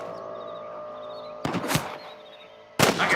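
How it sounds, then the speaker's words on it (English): Gunfire in the Western video game Red Dead Redemption on PC: two sharp, loud bursts of shots stand out over a steady hum of ambient game sound, with a quieter stretch between them. "I can hear more gunshots"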